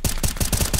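Gunfire in the video game Counter-Strike: Global Offensive, a rapid, loud burst of about five evenly spaced shots in under a second, close and with no talk over it.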